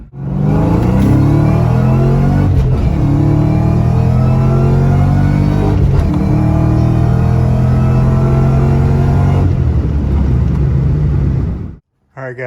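A 1979 Mustang Pace Car engine running loud and close with a steady rumbling drone and slight rises in revs, then cutting off sharply near the end.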